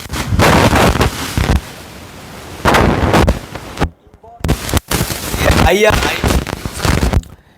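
Explosions from Iranian missile attacks on US bases come as loud, booming blasts in separate bursts, with brief silent gaps and a voice talking at points.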